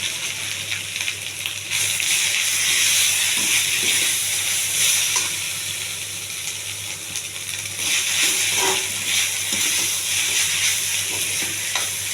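Cooled brown rice frying in a pan with green chillies, salt and turmeric, a steady close sizzle with scraping stirs throughout, no talking.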